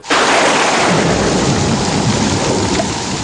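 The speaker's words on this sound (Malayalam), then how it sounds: "താമസിയാതെ ഇടിവെട്ടോടുകൂടി മഴ പെയ്തു." A heavy rumble of thunder breaks over pouring rain, starting abruptly and holding loud and dense for a few seconds as a roaring, sustained wash.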